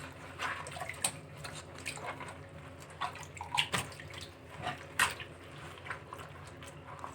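Hot water runs steadily from a kitchen tap while beef bones are rinsed and washed for pho, a constant splashing hiss broken by occasional clinks and knocks of bones against the sink.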